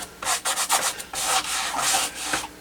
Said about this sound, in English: And so I'm rubbing it in pretty hard.